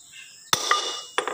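A hammer strikes twice, sharp and metallic, with a ringing decay, while removing a rear hub seal in a workshop.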